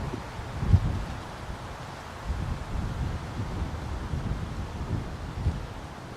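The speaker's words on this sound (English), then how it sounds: "And here comes the wind." Steady outdoor wind at an archery range, a low continuous rush with gusty swells and faint rustling throughout.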